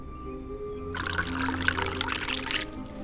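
Cucumber water pours steadily into a glass for about two seconds, a close, bright splashing stream over a quiet room hum.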